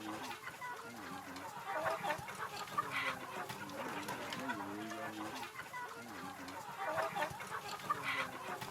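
Chickens cluck steadily in a busy, close chorus on a farm, with overlapping calls from several birds and no speech.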